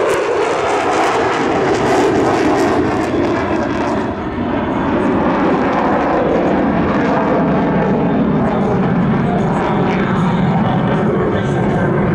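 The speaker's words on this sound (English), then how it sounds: "F-35 now setting up for the high speed climb from the right." F-35B stealth fighter jet at an air show, setting up for a high-speed climb: a loud, steady roaring jet engine that fills the whole clip, close and continuous, with a faint voice underneath.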